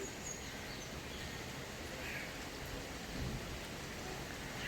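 Steady rain falling outdoors in Kakinada, a continuous faint hiss of drops on surfaces with no break and no voices.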